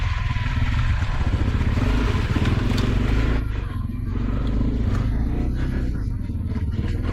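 A Honda CRF250L motorcycle on a steep trail climb, its engine buzzing loud and close in a continuous rough drone with clattering, easing slightly partway through, while people talk over it.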